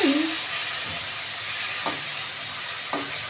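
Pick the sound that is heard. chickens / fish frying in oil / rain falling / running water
fish frying in oil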